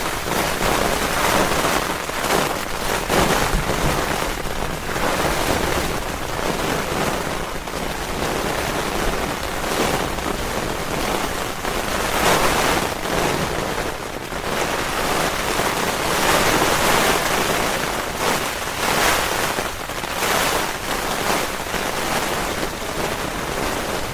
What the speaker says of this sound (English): cannot believe how windy it is.